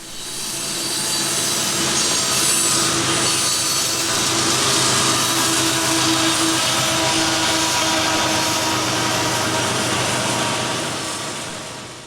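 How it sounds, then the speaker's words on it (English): A freight train climbing a hill gives a loud, steady mechanical roar with a grinding, laboring drone and faint tonal whine, continuous throughout like heavy rail traffic straining nearby. "this train is definitely trying to make an effort up that hill"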